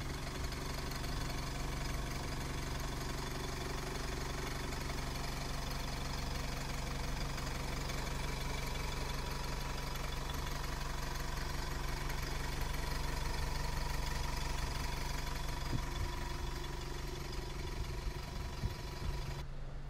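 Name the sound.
ADL Enviro200 bus diesel engine idling in engine bay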